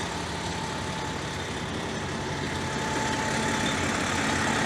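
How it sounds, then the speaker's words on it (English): A GO Transit bus engine runs steadily at the Finch Station bus terminal, a constant broadband diesel drone with a slight low hum, close and unchanging, with no voices. "And there's a GO bus."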